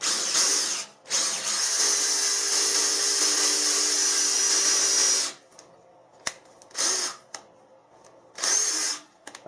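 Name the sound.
drilling and tapping 5mm threads in hard metal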